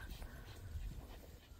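Several dogs pant in bushes at a park, a quick rhythmic huffing heard faintly from a short distance over low outdoor background noise.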